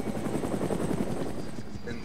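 A helicopter in the video game ArmA 3 gives a loud, close, steady rotor chop with a throbbing low drone, continuous throughout, and a voice is faintly heard beneath it.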